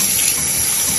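Warm tap water runs steadily from a faucet for rinsing Bratz doll hair, a loud, close, continuous hiss and splash with no pauses.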